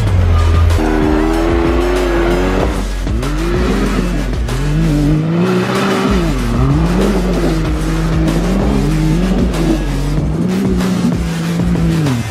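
A 650-horsepower Lamborghini Urus accelerates hard with a loud, close engine roar that climbs and dips through gear changes, tires squealing in wavering tones over the steady rumble.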